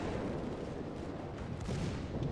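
Secondary guns firing on a battleship in the naval video game World of Warships, a dense continuous roar of overlapping booms and rumbling blasts with no clear pauses, loud and steady throughout.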